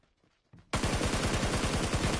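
Sudden burst of rapid automatic gunfire in Minecraft Bedrock Edition, starting after a brief quiet moment and continuing as a loud, dense, steady rattle of closely spaced shots with no voices.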